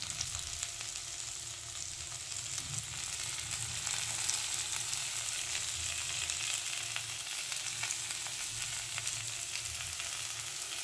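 Onion added to potatoes and pointed gourd frying in a pan with salt, a steady, fairly quiet sizzle with faint intermittent stirring, no speech.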